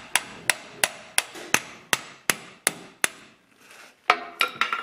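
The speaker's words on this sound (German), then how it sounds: "Mit Hammer." Hammer tapping on metal while fitting a CV joint boot on a Skoda Superb, about eleven sharp ringing strikes in a steady rhythm, close and loud, followed by a few scraping knocks.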